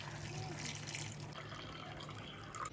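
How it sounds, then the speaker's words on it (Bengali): Hot water poured into a pot of chicken biryani cooking on a high flame, a steady splashing, gurgling stream running throughout at moderate loudness with faint kitchen background noise. "2 কাপের মতো গরম জল দেবো।"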